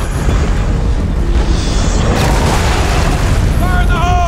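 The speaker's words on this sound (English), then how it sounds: "We gotta get a frag in there!" Frag grenade blast in the video game Gears of War 4, a loud rumbling boom filling the whole stretch amid ongoing battle noise, with voices shouting over it.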